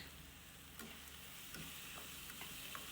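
Tomatoes fry with salt in a pan, giving a faint, steady sizzle with a few soft taps and stirring clicks over the bubbling.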